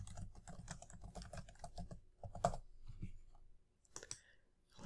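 Rapid keystrokes on a computer keyboard while text is entered into a project task note, a quick clattering run of taps with brief pauses, close and fairly quiet, with no talking.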